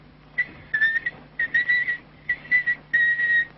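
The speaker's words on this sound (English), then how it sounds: "Listen to that kid whistle." A 7-year-old girl whistles a tune in four short phrases with pauses between them, played back from a tape recording with a steady low hum underneath.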